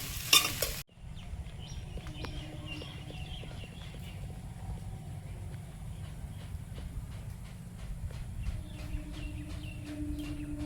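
Soybean chunks and vegetables frying in a pan, a faint low sizzle with light scattered stirring ticks and scrapes throughout, after a brief loud burst at the very start.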